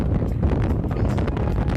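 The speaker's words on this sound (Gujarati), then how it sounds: "પવન બહુ જ આવે છે પણ પવનને ઇગ્નોર કરી નાખજો તમે" Steady low rumbling buffet of wind hitting a microphone, loud and continuous throughout, with no voices.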